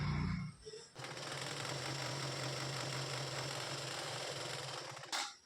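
A sewing machine stitches fabric in a single steady burst of rapid needle clatter, close and continuous, framed by brief handling noises at the start and end.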